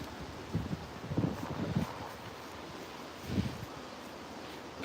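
Wind buffets a handheld microphone outdoors on a dog walk in Edinburgh, a steady low rumble with a few stronger gusts swelling and fading, no voices.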